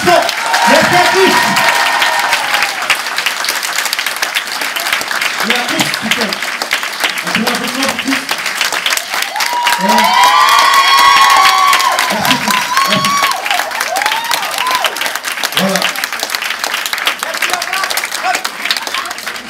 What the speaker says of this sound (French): un grand tonnerre d'applaudissements